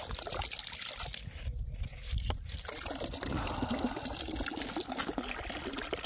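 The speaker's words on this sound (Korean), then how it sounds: "이야, 그 물이 잘 나오네." Natural spring water pours steadily from a pipe at a remote mountain house in a pine forest, a continuous close gush and splash with no talking.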